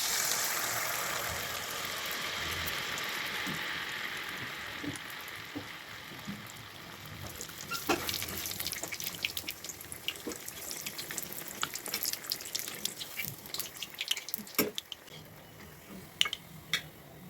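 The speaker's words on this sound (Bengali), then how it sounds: "এখন তেলের পিঠাগুলো ভেজে নিব" Tel pitha, cakes of jaggery, milk and grated coconut batter, frying in hot oil, a soft bubbling hiss that grows busier with scattered crackles and pops, heard alone without talk.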